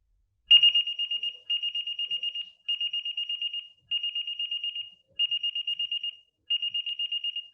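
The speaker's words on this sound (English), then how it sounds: "you can see how it actually sounds when they set off the alarm" A ThermApp MD PRO thermal camera sounds its audio alarm: a loud, piercing high beeping tone repeating in six steady bursts of rapid pulses, each about a second long with short gaps between them.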